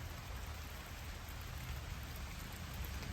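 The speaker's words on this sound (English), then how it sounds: "it's pretty comfortable just sitting here watching the rain" Steady rain falling on and around an Appalachian Trail shelter, a dense continuous patter with soft low rumble, even and close throughout with no voices.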